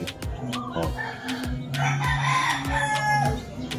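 Chickens cluck repeatedly nearby while a rooster crows, layered farmyard calls overlapping in an irregular rhythm.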